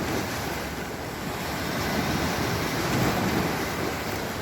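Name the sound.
evening waves of the Mediterranean Sea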